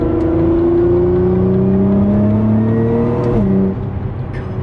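Tuned Nissan R35 GT-R engine revving at half throttle, a loud, close, sustained drone with harmonics rising steadily then dipping near the end, without talk.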